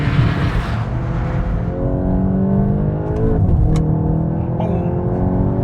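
A Volkswagen Golf R Mk 8.5 engine revs hard at full throttle and climbs in pitch with a raspy, sporty Akrapovič exhaust note, loud and close, easing briefly before pulling again.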